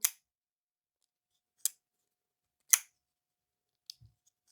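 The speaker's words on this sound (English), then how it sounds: "And the action on this little knife is surprising. It has good sound." A small folding pocket knife is opened and closed in sharp, crisp clicks and snaps, four distinct metallic actions spaced about a second apart, close up against near silence.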